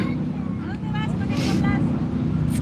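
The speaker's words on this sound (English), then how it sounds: "That is a loud boat." A loud motorboat rumbles close by on the water outdoors, its steady low engine drone running under continuous conversation.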